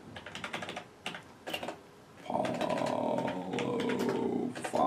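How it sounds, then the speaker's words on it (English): Rapid keystrokes on a computer keyboard as a search is typed, a quick burst of clicks followed by a denser, steadier run of tapping, close and clear with no talking. "I can type it in here"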